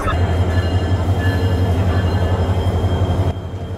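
A passenger train at Cox's Bazar station, its locomotive being uncoupled, gives off a steady low rumble and hum with faint metallic squeal, close and loud, then drops a little near the end.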